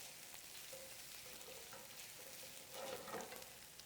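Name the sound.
thinly sliced shallots sautéing in a pan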